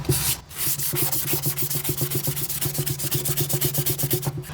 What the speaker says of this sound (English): 220 sandpaper and lightly distress the transfer and my piece